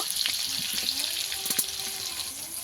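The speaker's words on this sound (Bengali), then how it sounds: "এদিকে ভালো ভালো করে আলুটাকে ভেজে নেব" Potatoes frying in oil seasoned with turmeric and salt for a Bengali chicken curry, a close, continuous crackling sizzle with a few brief scraping and clinking stirs, and no speech.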